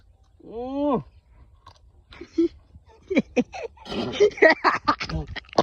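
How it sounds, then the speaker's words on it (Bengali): Someone bites into a bangi musk melon, with crisp crunches followed by wet chewing in close, irregular bursts, after a brief vocal sound at the start. "একটা কামড় আমি দিচ্ছি বিসমিল্লাহ বললে"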